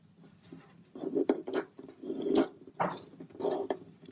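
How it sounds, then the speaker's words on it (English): Sheets of paper crinkle and rustle in bursts while being folded into an origami fish, with several scraping creases and rubbing swipes close up, and no voices. "open the fold and flip over and do the same along the same fold"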